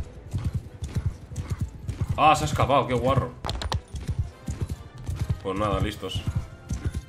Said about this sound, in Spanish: ¿Cómo corre este caballo, la verdad?